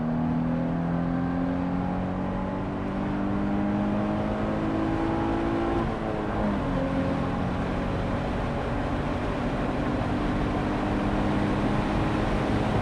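Sustained low engine drone with rising and falling tones, a Nissan 350Z Roadster's catback exhaust humming under acceleration, steady and fairly loud throughout.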